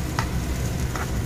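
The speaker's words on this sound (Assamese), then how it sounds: "পাঁচফোৰণ আৰু পিঁয়াজ দি ভাজিছোঁ" Onions fry with panch phoron spices in a home kitchen pan, a steady close sizzle with faint stirring scrapes.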